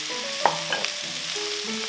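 Mushrooms are stir-fried with garlic in a wok for a Chinese braised mushroom and sea cucumber dish. A short, steady sizzle carries a few light scraping clicks, with faint tonal music underneath and no voices.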